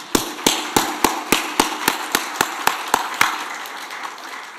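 About a dozen sharp, evenly spaced claps in unison, loud and close, keeping a steady beat before stopping.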